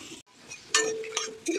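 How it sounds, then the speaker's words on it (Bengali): A big metal spatula stirs peanuts roasting in a pan with bay leaves, giving a few close, sharp scraping clinks and short rattles spaced unevenly over a quiet background. "বড় একটা খুন্তি দিয়ে অনেক দূর থেকে নাড়ছি।"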